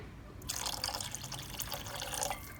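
Thick tamarind water poured into a pan of egg curry, a steady liquid splash and trickle that starts after a short pause and runs on to the end, fairly close.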